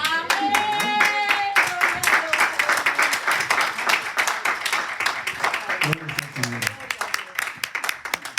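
A church congregation breaks into loud, sustained applause, dense overlapping hand claps filling the space, with voices calling out over the clapping.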